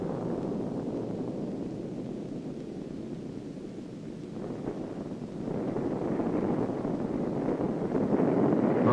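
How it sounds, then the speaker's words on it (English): The first Chinese atomic bomb test at Lop Nur comes through as a deep, sustained roar and rumble, buffeted by wind noise, that swells louder over the last few seconds. "Our nation's first atomic bomb is a success."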